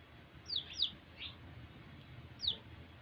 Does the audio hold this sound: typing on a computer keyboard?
no